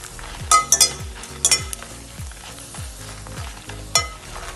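Red chillies and coriander dry-roasting in a pan for spicy cauliflower bhuthi, giving a soft steady sizzle broken by a few sharp metallic scrapes and clinks of a spoon stirring.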